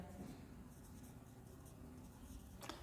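Chalk or marker scratches faintly across a classroom board in a quiet room, soft scraping strokes under low room noise, with a sharper stroke near the end.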